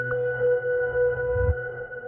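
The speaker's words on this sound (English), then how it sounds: "I use the Spirit Sweeper, also from Monolith, and this is what it sounds like without any effects" A dry Spirit Sweeper synth sample from Monolith plays without effects: sustained tonal layers with a faint chirp near the start and a low thump toward the end, steady and moderately quiet.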